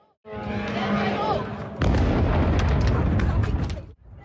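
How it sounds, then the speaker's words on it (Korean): A drone strike on the US consulate in Dubai brings a roaring whine, then a loud, sustained blast rumble with crackling debris, heard at a distance with a voice briefly over the noise. "굉음에 이어 폭발음이 들리고"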